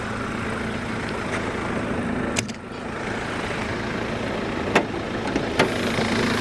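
A car engine idles in a steady low hum with a faint mechanical whine, close by, broken by a few sharp clicks and knocks.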